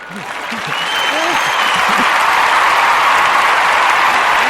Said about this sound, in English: this is the applause that we were gonna give someone